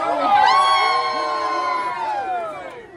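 A crowd yells and cheers at the Gatorland alligator show in Florida, with loud, sustained shouting and high children's voices peaking early and then slowly fading across a few seconds.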